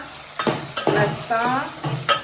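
Green onion, tomato, garlic-ginger paste and green chilies sizzle and crackle in a hot pan while being tempered and stirred, with scraping of a spoon against the vessel in short bursts.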